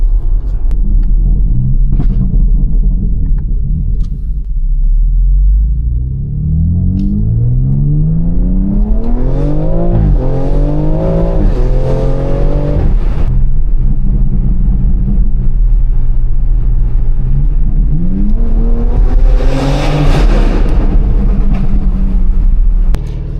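Tuned stage 2 BMW X3M with a 700 hp setup revving hard, loud deep engine rumble climbing in rising sweeps with sharp exhaust crackles and pops, close and dominant throughout.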